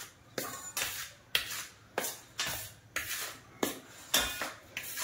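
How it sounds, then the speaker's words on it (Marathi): Rice flour and a second flour are stirred together in a bowl, a spoon scraping and knocking against the sides in regular, repeated strokes, about ten in a row, close and clear. "हे मिक्स करून घ्यायचं दोन्ही पीठ"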